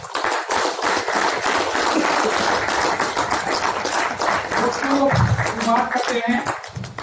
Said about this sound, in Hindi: तो एक बार पैसे के लिए क्लैपिंग आप करें